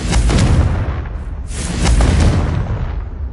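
A Confringo fire spell in Hogwarts Legacy lets off two heavy, booming blasts back to back, loud and close, each a deep rumbling explosion that fills the sound with no talk over it.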